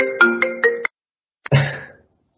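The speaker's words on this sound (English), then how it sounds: "I'm getting a phone call." An incoming call sets off a phone ringtone: three quick bright chimes and a held tone, a short pause, then a longer sweeping tone, all loud and close with no voices.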